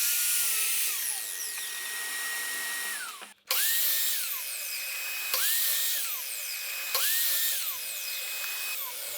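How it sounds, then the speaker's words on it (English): A miter saw cuts wooden boards in a workshop, sounding as several separate high whining passes, each spinning up, biting through the wood and winding down, with a short gap between cuts. "I make the cuts using the miter saw, making sure I do the same cut on every board first"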